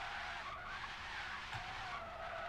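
Tyres skidding under heavy braking in the video game Forza Horizon 3, a steady, loud continuous screech with a rough broadband hiss that holds unbroken for the whole stretch, with no talk over it.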